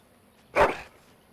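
A single short dog bark from the companion hound in the fantasy role-playing game Dragon Age: Origins, a brief, fairly loud yelp standing alone against quiet background.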